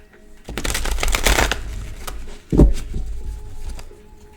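Tarot deck being shuffled close up, a rapid riffling flutter of cards followed by a sharp tap and a second, softer burst of shuffling.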